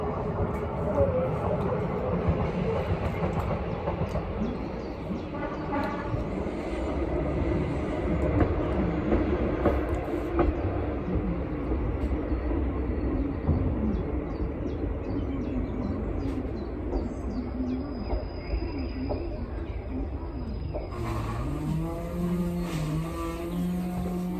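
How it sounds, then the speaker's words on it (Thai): A train rumbles past in a long, steady roar that rises and holds for over twenty seconds before a brighter screech at the end, with people talking nearby and occasional birds in the background. "รถไฟมาแล้ว"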